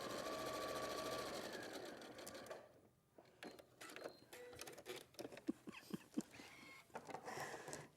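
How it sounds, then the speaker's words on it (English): A sewing machine runs steadily while stitching straight lines, a close continuous mechanical whir, then stops and gives way to scattered clicks and light handling noises. "It's just sewing straight lines, really."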